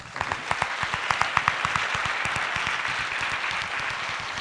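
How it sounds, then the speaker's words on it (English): A workshop audience applauds its organisers, with dense, continuous clapping spread across the whole stretch and a few sharper individual claps standing out near the start. "you all deserve a round of applause"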